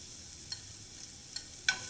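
Sliced shallots and ginger sizzling in a hot pan, a steady soft hiss with a few brief stirring scrapes and one sharper clink near the end, close and quiet with no talk.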